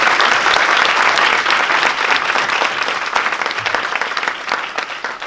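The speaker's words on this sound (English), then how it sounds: "So giant round of applause for us." A large audience claps loudly at a civic community update event, a dense, steady burst of applause that runs on and slowly thins toward the end.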